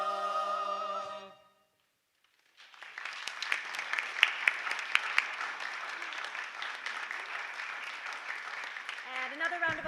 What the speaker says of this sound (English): another round of applause for all of our soloists up here